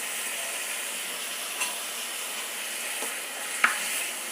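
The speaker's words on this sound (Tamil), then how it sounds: "இந்த தக்காளி கொஞ்சம் வதங்கட்டும்" Tomatoes with turmeric sautéing in a pan, a steady soft sizzle and hiss throughout, with a couple of faint clicks of a spatula, no talk.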